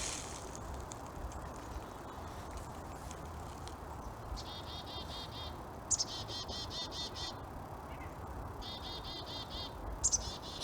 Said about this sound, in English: Chickadee.